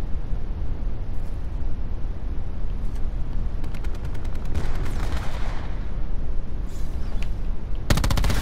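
Rapid gunfire in a team-based multiplayer shooter, dense machine-gun bursts and sharp shots over a constant loud rumbling noise floor, with a sudden crackling burst at the end.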